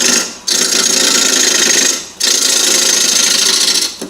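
Wood lathe spinning a bowl blank while a gouge cuts, a loud continuous rasping whir in two long passes with brief pauses between them.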